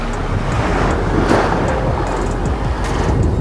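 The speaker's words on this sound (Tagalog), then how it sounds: "Ang lakas ng hangin talaga." Strong wind buffets the microphone in a steady, heavy roar at the Muntinlupa baywalk, with faint wave wash underneath and no voices.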